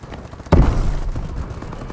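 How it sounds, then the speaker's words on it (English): A bombing run explosion in Call of Duty: Advanced Warfare multiplayer, a sudden loud boom that hits near the half-second mark and rumbles on as a heavy low roar before slowly fading. "Bombing run incoming."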